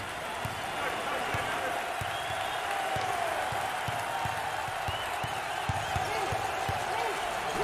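Student section crowd at a Toledo vs Akron MAC championship college basketball game, a steady roar of cheering and applause with sneaker thumps and ball bounces underneath, continuous and dense throughout.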